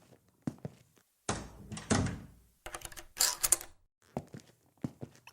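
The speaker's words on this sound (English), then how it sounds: "Close the door, would you?" Several door sounds in a quiet room: a door swings and thuds shut, then a short metallic rattle and clicks as a chain is fitted, with more small knocks and clunks nearby.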